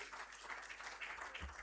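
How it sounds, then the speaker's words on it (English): Conference audience applause at an event on safeguarding rights and peaceful elections, a dense continuous patter heard faint and distant throughout. "Give him a very big round of applause."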